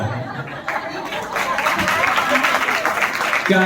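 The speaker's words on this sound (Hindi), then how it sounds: "क्यों हंस रहे हो, क्यों ताली बजा रहे हो?" An audience at a spiritual talk breaks into sustained clapping mixed with laughter and chatter, the applause swelling and holding loudly through the moment.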